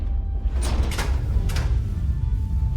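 A sci-fi sliding door in the Star Trek: Resurgence video game opens with two quick pneumatic swooshes over a low ambient hum, close and clear, with no talking.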